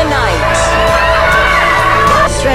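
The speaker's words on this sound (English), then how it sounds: "Some citizens are losing it by screaming from their apartment windows" Citizens screaming from apartment windows into the night during a lockdown, loud overlapping yells and whoops echoing between buildings, sustained and close.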